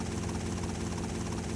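A helicopter in the video game GTA Vice City Stories, a steady throbbing rotor drone with dense low pulsing, continuous and fairly close throughout.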